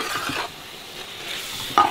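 A steady, soft sizzle of chicken and onions cooking in a pot for Thalassery biryani, with light stirring scrapes and a brief clink of a utensil near the end.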